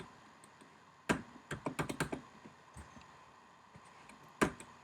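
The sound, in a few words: typing on a computer keyboard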